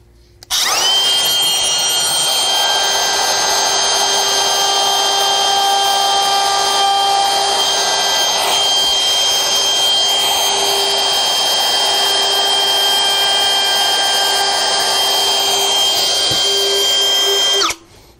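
A cordless router freehand carving a wood sign runs loud and steady for about seventeen seconds, a continuous high whine with cutting texture that starts and stops abruptly.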